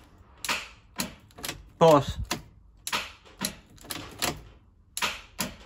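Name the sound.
BMW E46 325 starter motor clicking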